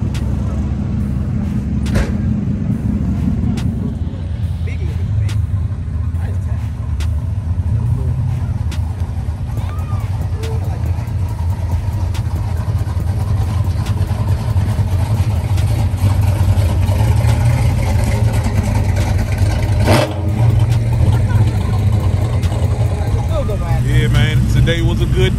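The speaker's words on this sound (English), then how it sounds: "Came to see Wayne race the L-body Camaro" Race cars, including an L-body Camaro, roar at a racetrack in a steady, loud wash of engine noise that lasts throughout, with people talking over it.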